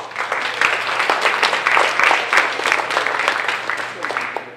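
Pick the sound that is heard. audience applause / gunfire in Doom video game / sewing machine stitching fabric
audience applause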